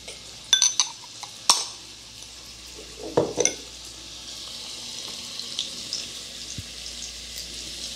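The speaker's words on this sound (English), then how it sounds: "We're going to add our sausage and begin to brown it, okay? It's our ½ pound andouille sausage." Half a pound of andouille sausage browns in hot olive oil over medium-high heat with a soft, low sizzle, broken by a few sharp clanks of a utensil against the pan.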